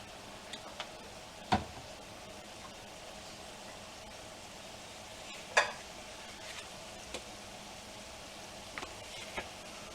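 Shrimp scampi sauce with lemon juice simmers and reduces in a pan, a low steady sizzle running throughout, broken by a couple of sharp utensil clacks and a few faint ticks.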